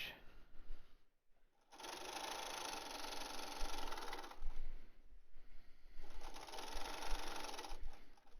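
Sewing machine back stitching a fabric mask, running in bursts of rapid mechanical whirring separated by short pauses, close and fairly quiet.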